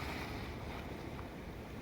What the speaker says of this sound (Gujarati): મોજા મારે રહ્યો મોજા